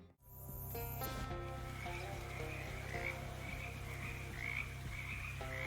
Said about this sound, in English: All of your frogs are just ordinary frogs now, right?